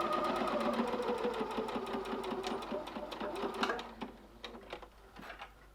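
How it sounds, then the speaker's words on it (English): A sewing machine stitches a 1 cm seam on a zippered purse in a fast, steady mechanical chatter, close and clear, slowing into a few separate clicks near the end. "Once again, a 1 centimeter seam, so we're stitching all the way down here."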